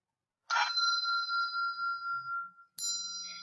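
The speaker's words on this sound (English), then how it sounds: "that bell you heard was just another session ending for someone" A single bright bell strike rings out and slowly decays, followed by a second ding near the end; clear and alone in a quiet room.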